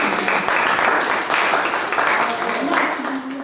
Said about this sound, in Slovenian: vmesni aplavz